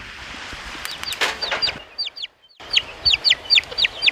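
Chicken on an off-grid forest farm, with a series of short, bright clucks and chirps repeating in quick bursts, pausing briefly, then resuming more regularly at close range over faint outdoor background noise.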